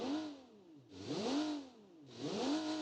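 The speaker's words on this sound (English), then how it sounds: "Who needs mufflers when you got a inline-six? It sounds like an inline-six." A 1975 inline-six car engine with no mufflers in the BeamNG driving game revs loudly three times, each rev rising in pitch and falling back in a rhythmic, raspy surge.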